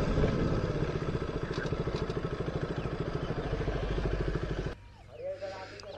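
A motorcycle engine runs close by with a rapid, even putter and clatter, then cuts off abruptly, leaving quiet with a brief voice.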